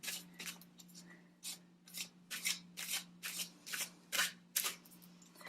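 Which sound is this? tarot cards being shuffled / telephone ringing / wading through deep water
tarot cards being shuffled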